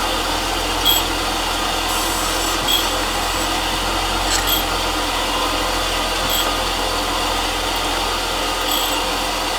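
Grinding wheel working hard steel (46H) on a custom angle plate, a steady dense whine and hiss running continuously throughout with faint periodic ticks, fairly loud and close, no talk.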